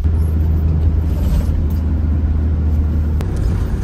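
A 4x4 on a snowy road towing an overloaded trailer with no rear lights, giving a steady, loud, low engine and road rumble that runs without a break, with a brief click near the end.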